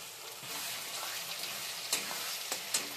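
Ground spice paste of tomato, onion, garlic and green chili frying with browned onions for a meat curry, a steady moderate sizzle with a few light stirring scrapes near the end, no voices.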